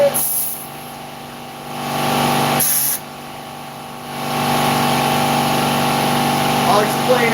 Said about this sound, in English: as soon as this air compressor gets off